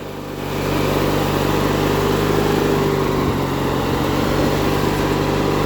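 A riding lawn mower's engine runs steadily and loudly close by, a constant mechanical drone with a low hum that starts up in the first half-second and holds through to the end.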